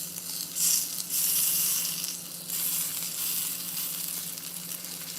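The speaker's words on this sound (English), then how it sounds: "We'll just render the fat." A steak's fat cap renders in a smoking hot pan, giving a steady loud sizzle with brief crackling flare-ups, close by and with no talking.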